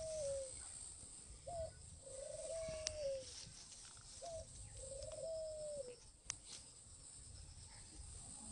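Tamed spotted doves, released near a bird farm, coo in about four clear repeated phrases, fairly close and steady, over a faint background hum of insects.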